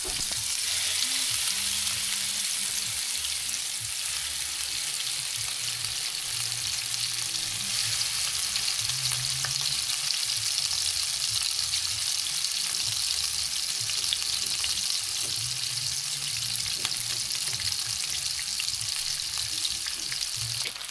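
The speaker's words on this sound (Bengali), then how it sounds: "আমি এখন উল্টে নিলাম, আবার উল্টে পাল্টে নিচ্ছি।" Fresh hilsa fish pieces frying in oil in a pan, a strong continuous sizzle with soft shuffling and faint knocks as the pieces are turned over.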